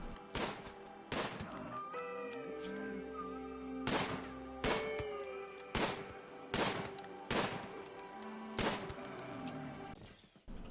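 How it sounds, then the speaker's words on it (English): A colonist fires a weapon at a Muffalo in the game RimWorld: about nine sharp gunshots spaced a second or so apart, each with a short ringing tail, over faint tonal game sounds. "each time he fires his weapon"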